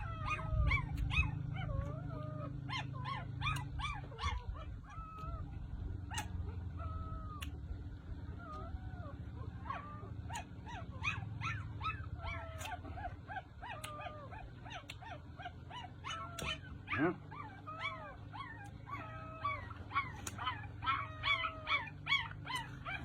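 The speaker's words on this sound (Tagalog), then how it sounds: "Ingay yung mga tuta." Puppies whimpering and yelping in a busy, overlapping chorus of high cries, close by and continuous, with a steady low rumble underneath.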